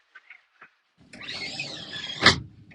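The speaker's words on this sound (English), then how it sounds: "And you just push that round and it's shut." Side-opening door on a new Jeanneau NC33 motor boat slid shut: a brief scraping, sliding rush ending in one solid close thump, after a few faint knocks.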